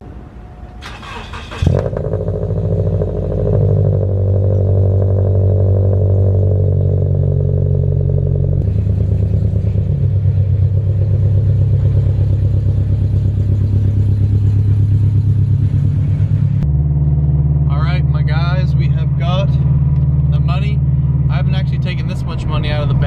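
A widebody Scion FR-S idles and then drives, its engine a loud steady drone that shifts in pitch as it moves, and a voice talks over it near the end.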